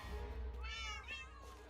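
Several Minecraft cats meow in the game, two clear mewing calls close together over a low steady background hum, with no voices.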